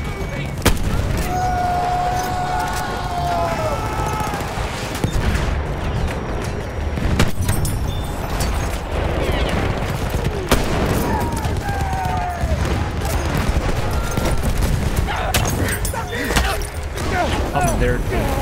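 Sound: gunfire in Battlefield 1 video game

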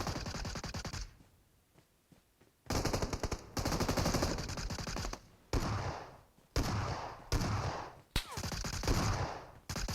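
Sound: gunfire from a video game, PUBG Metro Royale

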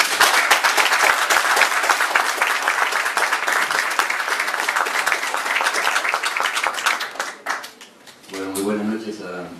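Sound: audience applause for Che Guevara's brother

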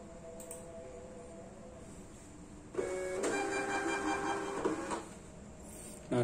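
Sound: printer printing QR barcode labels

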